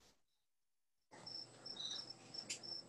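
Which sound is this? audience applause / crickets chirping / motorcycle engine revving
crickets chirping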